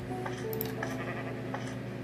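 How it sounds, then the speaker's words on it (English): A sheep bleats a few times in short, thin calls over a steady background hum, sounding synthetic and game-like, from Minecraft Java Edition. "so let's put a sheep here"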